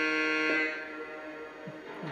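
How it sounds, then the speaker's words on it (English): A Lionel Hiawatha 4-4-2 Atlantic model train sounds its horn: a steady, moderately loud, reedy multi-tone blast that holds for about two seconds, with a faint low pitch swooping beneath it. "With our horn."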